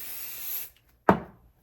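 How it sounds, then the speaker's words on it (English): A short hiss of basting spray on quilting fabric, followed by a brief pause and then one sharp close burst of spray that fades quickly. "Take your basting spray if you have it."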